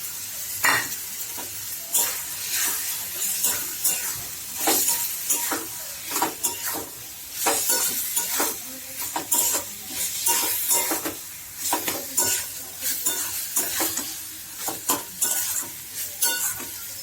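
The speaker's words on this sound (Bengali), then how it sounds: "এবারে এর উপরে চিকেনের কিমাটা দেব।" Chicken mince being stir-fried with spices in a pan for a Bengali chicken tarka, with a steady sizzle and repeated scraping stirs from a spatula or utensil. The sound is close and continuous, with no talking.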